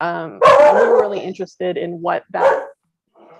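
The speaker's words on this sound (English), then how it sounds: "Excuse my dog." A dog barks several times, loud and close, interrupting someone speaking, with a few sharp yips in quick succession before a brief quieter whimper.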